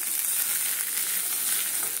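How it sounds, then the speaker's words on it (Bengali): Mustard seeds fry in oil in a wok with a loud, steady sizzling hiss that runs unbroken throughout, with no voices. "সর্ষের সঙ্গে একটু ভেজে দিচ্ছি"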